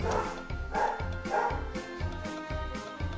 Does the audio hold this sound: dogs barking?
yes